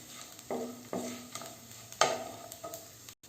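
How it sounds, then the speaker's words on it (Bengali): Peanuts stirred and dry-fried in a pan for sujir barfi, with several distinct scraping stir strokes over a soft sizzle, close and fairly quiet. "এভাবে নেড়ে নেড়ে বাদামগুলো হালকা করে ভেজে নিতে হবে।"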